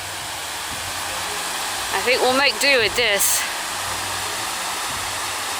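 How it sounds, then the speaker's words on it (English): Grey Mare's Tail waterfall in Scotland pours as a steady, loud broadband rush throughout, with a person speaking briefly near the middle over the roar. "it may not be a crazy epic waterfall, but it's still really pretty."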